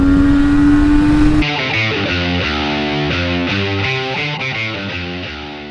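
A Kawasaki H1 B 500cc two-stroke triple motorcycle engine runs close and loud, its raspy buzzing note climbing and falling through repeated revs after an abrupt change in pitch near the start.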